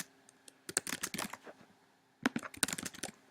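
Rapid keystrokes on a computer keyboard while playing a typing game, two bursts of brisk clicking separated by a short pause, close and clear with no talk.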